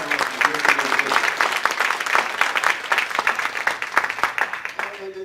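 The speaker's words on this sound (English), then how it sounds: "Give him a round of applause." A live seminar audience at a business event in Sacramento gives a round of applause, dense continuous clapping close by that runs throughout and tapers off at the end.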